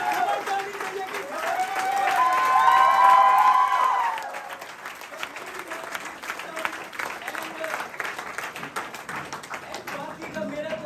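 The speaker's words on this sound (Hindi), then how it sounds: "छोटा ताली होना चाहिए मेरा।" An audience at an institute event breaks into applause, a dense burst of clapping that swells for a few seconds and then thins into scattered claps, with voices and background chatter mixed in.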